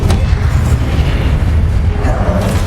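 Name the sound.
Expelliarmus spell impact in video game Hogwarts Legacy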